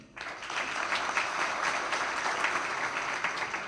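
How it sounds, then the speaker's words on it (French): A conference audience applauds the panelists steadily, many hands clapping together in a dense, even wash of sound that starts abruptly and holds throughout. "je voudrais remercier en votre nom les panélistes que je vous demande d'applaudir"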